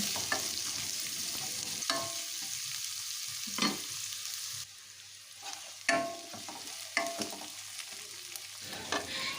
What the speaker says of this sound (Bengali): পেঁয়াজটাকে একটু ভেজে নিচ্ছি এখন